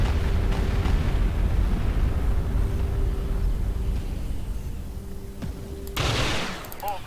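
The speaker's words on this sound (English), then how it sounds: "Bombardment incoming." Bombardment explosions in the Star Wars strategy game Empire at War roll out as a dense, continuous barrage of booms and crackling blasts, loud and sustained, then a sharp burst and a few electronic chirps near the end.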